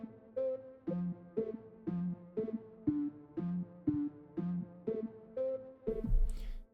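Grand piano run through a default spectral gate filter in Logic, giving a pulsing, gated tone: a steady chord pattern chopped into regular rhythmic bursts about twice a second, close and clear, ending in a brief noisy swell.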